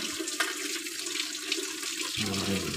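Water splashes and streams steadily while a pet is bathed with cold water, a continuous close running-tap wash that thickens near the end.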